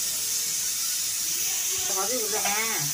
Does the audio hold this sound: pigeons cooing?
no